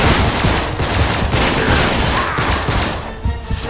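Gunfire in the video game Uncharted 3: a loud, rapid volley of overlapping shots with booming low end, sustained for a few seconds.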